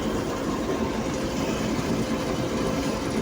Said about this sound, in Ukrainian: комбайн самко 410 працює ідеально